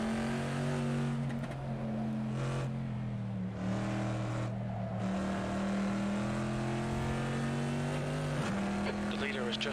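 A Corvette C7.R race car in the Assetto Corsa racing game at Tor Poznań drones with a loud, steady engine note that shifts pitch through the gears, under continuous commentary.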